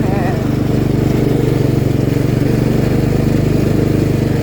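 A riding lawn mower's engine runs steadily and loud up close, a continuous rumbling drone with a buzzy, even pulse and no letup.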